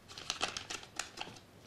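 Paper of a counterfeit 100-dollar banknote crinkles and rustles as it is handled, several quick crisp crackles close up in a quiet room.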